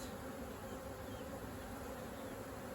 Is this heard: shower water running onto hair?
no